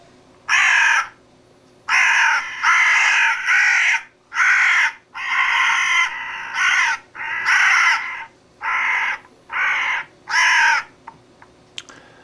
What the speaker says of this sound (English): Let's see what the crow sounds like.